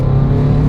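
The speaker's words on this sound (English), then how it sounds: "Full Super Sprint exhaust, which you can hear there." A BMW M5 fitted with a full Super Sprint exhaust and a Stage 2 tune drones loudly and close by in a brief, steady engine rumble.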